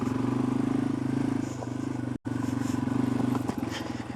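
A motorcycle engine revs unevenly under light throttle, a close, rough chugging drone that cuts out briefly midway before picking back up.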